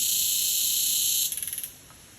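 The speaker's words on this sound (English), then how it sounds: "I assume that's a cicada or a grasshopper." A cicada or grasshopper in the Khao Sok jungle gives a loud, steady, high-pitched buzzing drone that breaks into a quick run of pulsing chirps before stopping abruptly.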